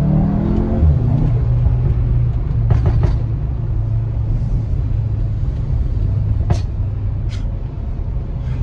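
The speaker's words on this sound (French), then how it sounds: "plus l'échappement va faire plus de bruit en fait" A 2021 VW Tiguan R with a 320 hp engine and an Akrapovic exhaust pulls away, a continuous low engine rumble with a brief rise as it accelerates, joined by a few short sharp higher-pitched sounds.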